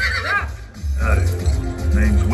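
A horse in a Spider-Man film gives a shrill, wavering whinny, heard in a cinema with voices around it.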